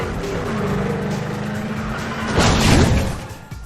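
A car crashing into police cars in a driving video game, with a steady engine drone that swells into a louder, noisy impact and scraping near the end, and no talking.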